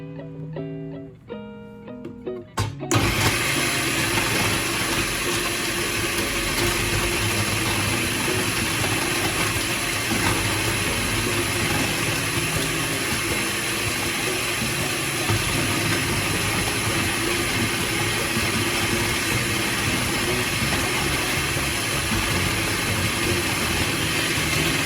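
A food processor slicing onions in a home kitchen, starting abruptly after a short quiet moment and then running as a loud, steady motor whir with constant chopping hum for over twenty seconds, no talk over it.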